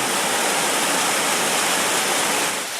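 A fast-flowing river rushes beneath a bridge in Bali, heard as a steady, dense roar of water that stays constant and fairly loud with no voices.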